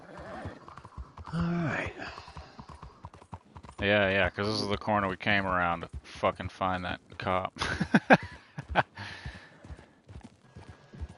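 Horse hooves clip-clop and a horse whinnies in the video game Red Dead Online, heard under close, overlapping male conversation throughout.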